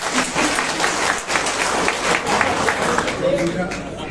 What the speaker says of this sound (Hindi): अगर आपने मुझे माफ कर दिया तो एक जोरदार ताली बजा दीजिए।